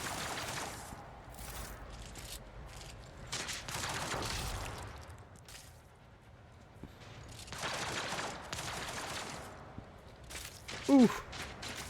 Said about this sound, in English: Somebody tried to shoot me.